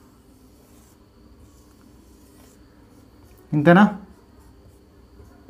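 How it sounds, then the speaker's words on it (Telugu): Brief scratchy stroke of writing on a board during an engineering lecture on thin cylindrical shells, one short burst of close rubbing, with a voice speaking softly around it. "ఇక రాస్తున్నాను నేను"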